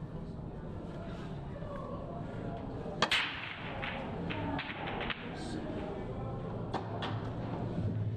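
In a doubles blackball pool match, a sharp crack of the break shot rings out, followed by scattered clicks and knocks of balls rolling and colliding, fairly faint amid room ambience and murmuring voices.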